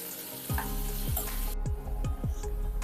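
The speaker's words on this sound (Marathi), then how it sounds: "याच पद्धतीने कांदा पूर्णपणे लालसर होईपर्यंत आपण परतून घेऊया" Onions frying in oil until browned, a steady sizzle running throughout with several sharp stirring or spatula scrapes at regular intervals, close and fairly loud, with no voices.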